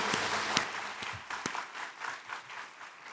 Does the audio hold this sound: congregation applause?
yes